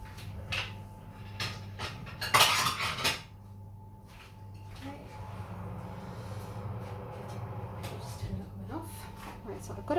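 A plate taken out in a home kitchen, with dishes clattering in a short bright burst of clinks and knocks amid steady background hum and some speech.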